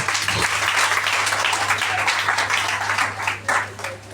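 A church congregation applauds steadily, dense continuous clapping from many hands filling the space throughout, with a slight dip near the end.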